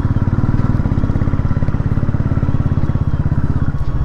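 A motorcycle on a road near Manali, its engine running loud and close with a steady rapid putter throughout.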